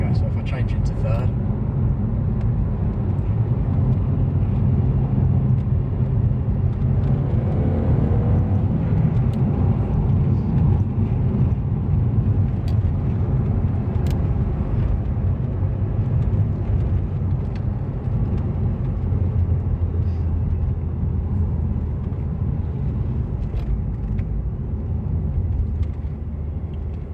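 A Mk1 Audi TT 225 Quattro coupe accelerates on the road, its engine droning steadily and building through the gears under continuous cabin rumble, with someone talking over it.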